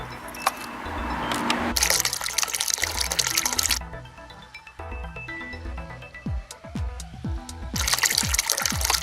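A LUXJET 5W solar fountain water pump sprays into a small bucket of water, giving bursts of splashing and trickling with intermittent drips and gurgles, close by and moderately loud, with quieter stretches between sprays.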